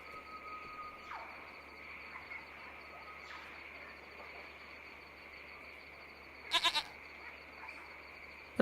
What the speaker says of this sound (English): Goats eat green things, don't they?